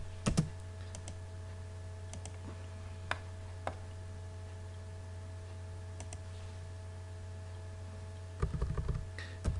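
Computer keyboard keys tapped to enter a command in AutoCAD, giving a few sparse, sharp clicks with a short burst near the end, set against a steady low electrical hum.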